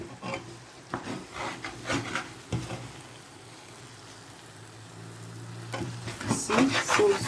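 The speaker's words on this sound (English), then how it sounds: "now we are frying" Ingredients for turmeric rice sizzle as they fry in a pot, with repeated scraping strokes of a spoon stirring through them, fairly close and continuous.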